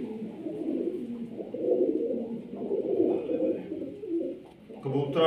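Pigeons coo steadily and close by in a low, throaty murmur that swells and fades, with a faint voice briefly at the end.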